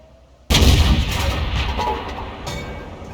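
A tank cannon in World of Tanks fires blind into buildings: one loud, close boom bursts in, then a long rumbling roll of debris and echo fades slowly, with a second smaller crack near the end.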